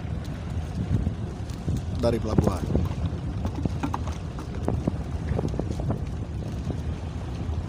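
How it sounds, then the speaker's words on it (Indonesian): A pilot boat guiding a ship out of Tanjung Priok port, heard as a low engine rumble under heavy wind buffeting on the microphone, while someone talks throughout. "Pilot boat ini lagi mandu kapal yang mau keluar"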